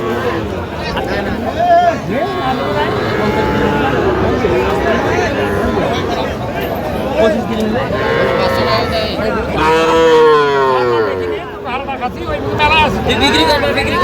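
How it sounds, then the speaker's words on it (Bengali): Young bulls and calves moo loudly and repeatedly amid busy chatter at a livestock market in Satkhira, with people talking throughout and long drawn-out lowing calls rising above the crowd. "আমরা দেখছিলাম যে গরুগুলো কিনছেন শাহাদুত ভাই"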